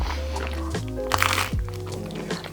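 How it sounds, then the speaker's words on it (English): Someone chews food with crunchy, wet bites, loud and close to the microphone in a few uneven bursts, with a low voiced hum underneath. "What do these chews sound like in your ear, cameraman?"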